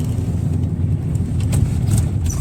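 A second-hand car driven at full speed during a test drive, heard as a steady low engine and road rumble from inside the cabin, continuous and fairly loud without talk.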